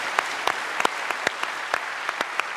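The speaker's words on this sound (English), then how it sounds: "you can now give yourselves a round of applause" A studio audience at the Seymour Centre, Sydney University, applauds at the close of a televised Q&A panel event, with scattered, distinct hand claps that ring out clearly against a light background.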